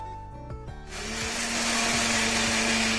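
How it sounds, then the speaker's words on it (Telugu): A kitchen mixer grinder whirs up to a loud, steady motor roar as it grinds dry-roasted ingredients that include dry coconut powder. A few clicks and knocks come just before it starts. "వీటిని చల్లారనిచ్చి మిక్సీ పట్టుకుందాం"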